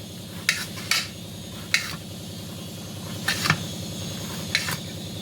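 A knife chops ridge gourd into pieces on a board, with sharp distinct cutting clicks at an uneven pace over a quiet steady hum.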